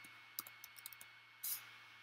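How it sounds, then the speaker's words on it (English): A phone number typed in on a device: a quick run of light, faint clicks and taps, followed by one short, brighter burst of noise, with no talking. "when I'm typing it in."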